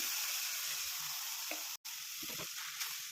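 Brinjal pieces frying in oil spiced with chilli and coriander powder, a continuous hiss of sizzling with a few stirring knocks and one brief dropout near the middle, close by and alone.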